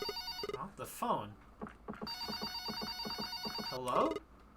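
Telephone in the Red Bow video game rings in repeated electronic bursts, loud and close, while a voice talks over the ringing between bursts.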